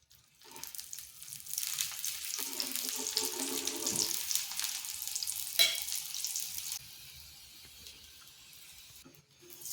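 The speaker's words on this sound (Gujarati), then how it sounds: "તવો ગરમ થઈ ગયો છે, આપણે ઘી લગાવી લઈશું" Aloo paratha cooking in ghee on a hot tava, a hissing sizzle that swells and fades with a few clinks and scrapes in between, heard close with no talking.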